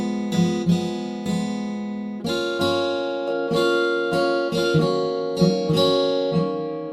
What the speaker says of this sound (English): I then added some saturation using Meld M Saturator, and a delay using the Reaper inbuilt rear delay.